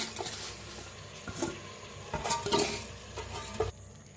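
Rice grains are stirred in hot oil in a pot, a spoon scraping and clinking against the metal while the oil sizzles softly, in a series of close, uneven strokes.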